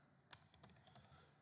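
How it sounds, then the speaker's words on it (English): Quick run of about six sharp clicks as a password is typed on a computer keyboard, faint and close, with irregular spacing between keystrokes. "And then this time we'll type out the training password."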